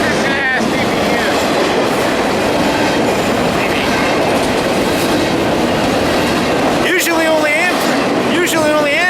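A Union Pacific freight train with a distributed power locomotive rolls past on the Seattle subdivision, loud and close, with continuous wheel clatter, a rumbling roar and short squeals late in the pass.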